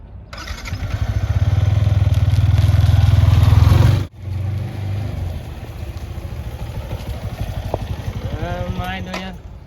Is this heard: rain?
no